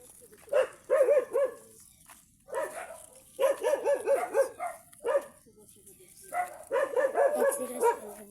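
A dog on a mountainside in the Philippines barks loudly and close in three rapid clusters of yapping barks, with short quiet gaps between them.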